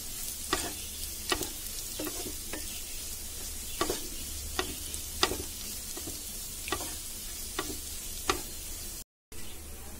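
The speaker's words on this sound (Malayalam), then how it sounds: "ഇതും കൂടി നന്നായിട്ട് ഉള്ളിയുടെ ഒപ്പം കിടന്ന് നന്നായിട്ട് വഴന്നു വരണം, നല്ല ക്രിസ്പി ആയിട്ട് വരണം." Sliced onions and curry leaves fry in a pan with a constant soft sizzle, broken by regular light clicks of a utensil stirring them.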